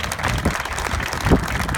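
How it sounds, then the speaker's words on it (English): A ribbon-cutting audience applauds Arkansas state representatives, a brief burst of dense clapping from a crowd, fairly loud and steady for under two seconds. "Please give them a round of applause."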